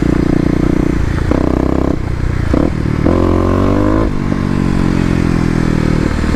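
A Stage 1 Kawasaki KLX250 dirt bike revs on off-road OHV trails, its loud, close engine rising and falling in pitch through repeated throttle bursts with gear-like shifts and no talk over it.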